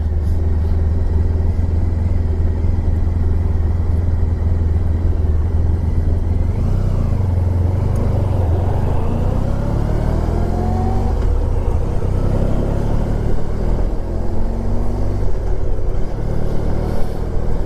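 A 1994 Honda ST1100 motorcycle ridden through traffic gives a loud, continuous engine drone with wind rumble, rising and falling as it speeds up and eases off, close and steady throughout.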